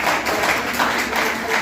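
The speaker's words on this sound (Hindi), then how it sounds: "एक बार जोरदार तालियां आएंगे" An audience at a lecture-style talk on values breaks into strong, steady applause, a dense wash of many hands clapping at even loudness throughout the short stretch.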